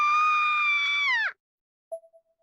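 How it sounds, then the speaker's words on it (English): A game character in Corpse Party: Blood Drive lets out a loud, harmonic scream lasting over a second that bends down in pitch as it cuts off, followed after a pause by a brief faint ringing tail. "I couldn't help but scream."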